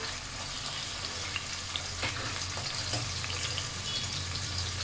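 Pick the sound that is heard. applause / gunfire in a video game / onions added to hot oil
onions added to hot oil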